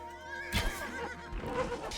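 A horse in Age of Empires 2 gives two short, clear whinnies over faint background game ambience.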